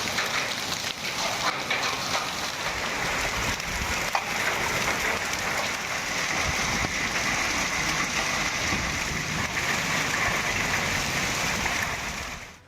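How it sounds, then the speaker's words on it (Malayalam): Heavy rain pours down with hail in Vellore's Gudiyatham area, a dense, loud and steady roar of drops hitting surfaces throughout, tapering off only at the very end. "വെല്ലൂരിൽ ആലിപ്പഴ വർഷത്തോടെ ശക്തമായ മഴ പെയ്തു"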